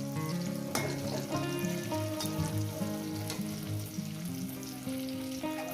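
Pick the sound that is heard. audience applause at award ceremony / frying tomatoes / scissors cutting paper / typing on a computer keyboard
frying tomatoes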